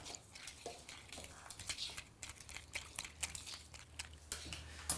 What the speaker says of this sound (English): Just a final stir.